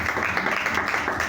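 Steady applause from a church congregation at an evening service, continuous clapping filling the room for just over a second with no gaps.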